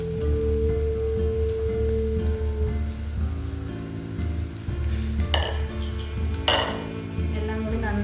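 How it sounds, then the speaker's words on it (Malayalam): Leftover dosa pieces stirred and mixed in a pan with a sizzling, crackly frying hiss, punctuated by a couple of sharp scraping clinks of a spoon against the pan toward the end. "എല്ലാം കൂടി നന്നായിട്ടൊന്ന് മിക്സ് ചെയ്ത് കൊടുക്കാം."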